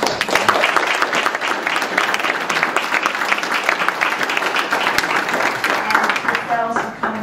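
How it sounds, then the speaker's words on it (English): At a New Jersey Senate district debate, the audience claps for the journalists present, a steady round of applause that thins near the end as a voice begins to speak. "Also, a round of applause to our journalists who are here."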